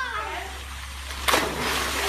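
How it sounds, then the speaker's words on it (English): A boy jumps into water, making one sudden loud splash partway through, with a brief burst of spray and lingering wash afterward over a steady low background hum. "Wow! That was a big splash."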